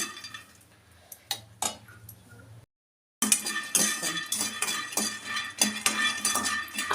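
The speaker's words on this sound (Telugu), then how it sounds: "గుమ్మడికాయ తాలింపుకి శనగగింజలు వేసి వేయించుకున్నాము" A spoon stirs chana dal frying in a pan as tempering for a pumpkin curry, giving sharp metallic clinks and scrapes, quiet at first and then busier and denser.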